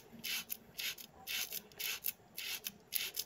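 A mop spinner basket is scrubbed clean of dirt in quick back-and-forth strokes, roughly nine rhythmic rasping rubs at close range, fairly quiet with no voices.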